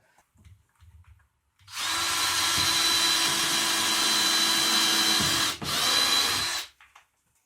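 Power drill countersinking a hole for a self-tapping screw while base ribs are fitted in a bus: one loud, close, steady high whine lasting about five seconds, with a brief dip near the end, and no talking.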